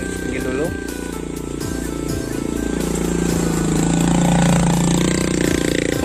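A motorcycle engine labours nearby on a steep hill road near Pantai Air Manis in Padang, a loud droning that rises in pitch, with people talking over it.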